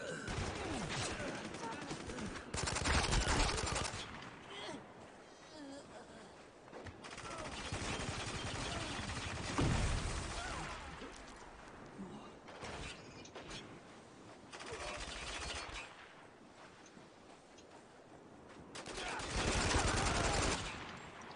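Bursts of gunfire in Spec Ops: The Line multiplayer fade in and out over about twenty seconds, faint and somewhat distant, with mechanical clatter between volleys.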